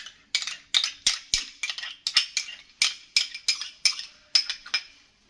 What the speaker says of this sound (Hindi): अब हम अच्छे से इसका मैरिनेशन तैयार करने लगे हैं, मिक्स करेंगे।